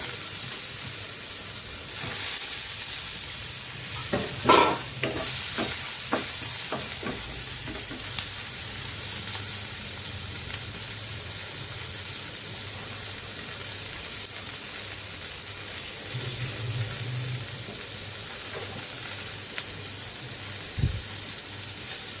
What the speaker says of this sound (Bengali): এবার টমেটো আর সজনে ডাঁটাগুলো দিয়ে দিচ্ছি।